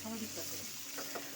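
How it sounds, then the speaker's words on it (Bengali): Diced capsicum, onion and green chili stir-fried in a pan, giving a steady soft sizzle with a few light stirring scrapes, close and fairly quiet. "সবগুলো সবজিকে আমি একটু নেড়েচেড়ে ভাজা করে নেব।"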